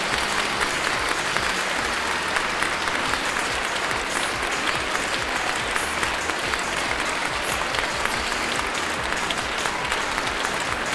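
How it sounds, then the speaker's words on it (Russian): Sustained applause from a large audience at the Miss Western Ukraine Bukovina beauty pageant, dense steady clapping holding evenly loud throughout. "Ваши аплодисменты."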